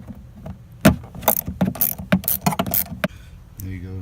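Clicks, rattles and metallic taps as a battery terminal is undone in the trunk of an R53 Mini Cooper S, a string of close, irregular mechanical knocks followed by a brief low hum at the end.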